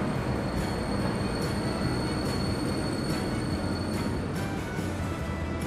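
A train in the Transport Fever 2 game, a small shunting locomotive on the Berlin–Wismar line, gives a steady, continuous rolling rumble on the rails, with faint rhythmic wheel clicks and no speech.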